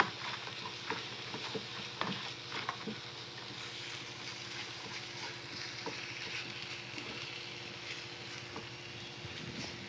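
Filling sizzles and fries in a pan while being stirred, a steady close crackle broken by soft scraping taps.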